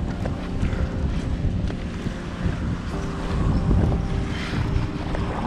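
Waves slap against a kayak on the Pacific Ocean near the Ballina river mouth, a steady watery wash with soft splashes under heavy wind buffeting on the microphone.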